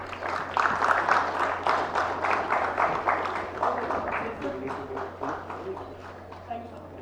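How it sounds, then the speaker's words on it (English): Audience applause greets speakers at a plenary session on governance, starting as a fairly loud burst of many hands and thinning into scattered, slower claps over several seconds. "A round of applause, please."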